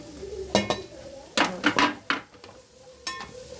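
A spoon stirs chopped onions in a pot of raw prawn curry, giving a few sharp, close metal scrapes and clinks against the pot in short bursts over a soft sizzle.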